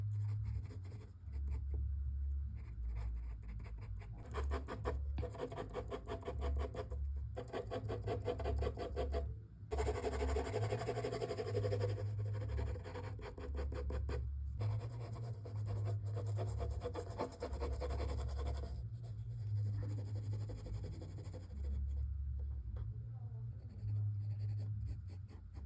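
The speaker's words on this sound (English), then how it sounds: "I'm just shading a little bit." A pencil shades a face drawn in profile with quick, rhythmic scratchy strokes on paper. The strokes are close and faint, sometimes pausing briefly, with no voices.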